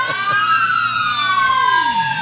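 Several emergency vehicle sirens wail at once during a holiday parade in Royal Oak, Michigan, their pitches rising and falling and crossing over each other, loud and continuous with a low rumble beneath.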